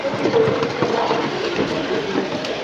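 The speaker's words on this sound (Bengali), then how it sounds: "বিলাসপুর জংশন থেকে আমাদের ট্রেন ছেড়ে দিল" A passenger train pulls out of Bilaspur Junction, giving a steady, loud rolling rumble with faint clicking from the wheels and no clear speech.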